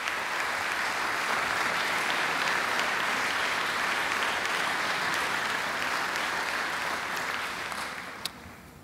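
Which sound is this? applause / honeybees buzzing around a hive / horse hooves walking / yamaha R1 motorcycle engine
applause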